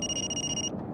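A phone rings with a steady electronic two-tone chime for about three quarters of a second, then cuts off abruptly, moderately loud in a quiet room.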